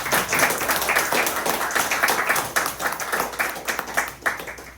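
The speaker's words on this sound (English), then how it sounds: "So please give yourselves a big round of applause." An audience at a music night at Rockwood Music Hall in NYC claps steadily for several seconds, dense and close, with no talking over it.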